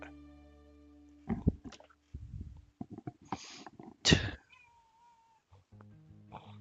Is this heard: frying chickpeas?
no